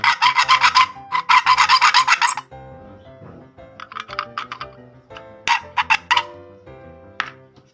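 A hand saw notches a plastic power strip box so the power cable can pass through: a rapid run of close, rasping strokes, followed by scattered shorter scrapes and bursts of cutting.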